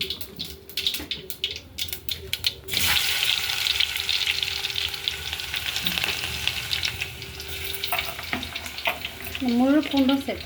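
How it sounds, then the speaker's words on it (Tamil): Mustard seeds dropped into hot oil crackle and sizzle steadily in a pan, a busy frying hiss with some clatter of handling; a voice speaks briefly near the end. "ஆயில் காஞ்சிச்சு, கடுகு போட்டுக்கலாம்."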